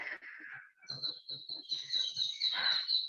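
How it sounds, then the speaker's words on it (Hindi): Birds chirp outdoors in repeated high tweets and calls, moderately close and fairly steady over about three seconds, with faint low traffic rumble beneath. "और चिड़ियों की भी आवाज सुनाई देगी।"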